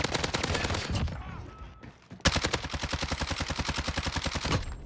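Rapid automatic gunfire in a video game private match against bots, delivered in two fast rhythmic bursts of many shots with a short gap between them, close and loud, no talking.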